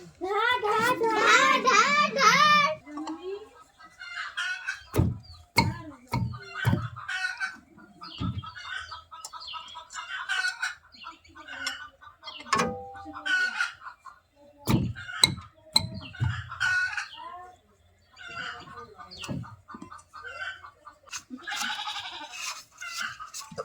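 Chickens cluck in short, scattered bursts close by, after a goat bleats at the start, while someone talks now and then.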